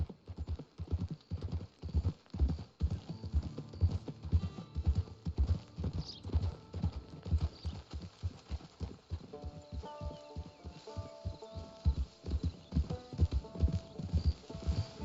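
Horse hooves clip-clop steadily in Red Dead Redemption 2, a close, rhythmic run of hoofbeats lasting throughout, with a few faint tonal game sounds layered in toward the end.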